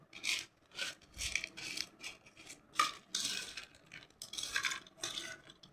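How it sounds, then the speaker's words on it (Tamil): A spoon scraping and rubbing through Maggi bhel puri in a bowl with soy sauce and salt, repeated gritty stirring strokes in an uneven rhythm, close and fairly quiet with no talking. "இப்போ நல்லா மிக்ஸ் பண்ணிக்கலாம்."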